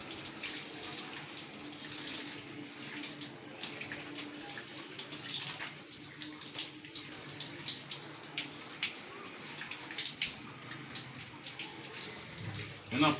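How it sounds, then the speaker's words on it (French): Water runs steadily from a tap as hands are rinsed during a handwashing demonstration, a continuous hiss lasting the whole stretch with light splashing and faint voices. "vous ouvrez à nouveau votre robinet."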